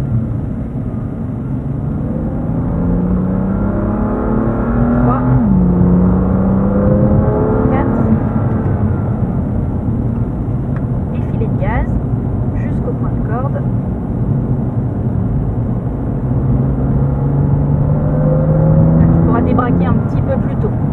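A race car accelerates hard around the Dreux circuit, its engine note climbing and dropping through gear changes, loud and close from inside the car, with a man coaching over the engine throughout.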